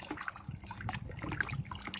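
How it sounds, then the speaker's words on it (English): Sugar being stirred into water in a pot for homebrew ginger beer, a soft close sloshing and trickling of liquid with faint clinks, quiet and continuous. "give it a stir"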